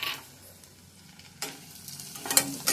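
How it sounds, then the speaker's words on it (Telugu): Potatoes and onions with garlic, cloves and coconut fry in a pan of oil, a soft continuous sizzle with occasional louder bursts and the scrape of stirring. "బంగాళదుంప, ఉల్లిపాయ ఇవన్నీ ఇలా వేగుతున్నాయి."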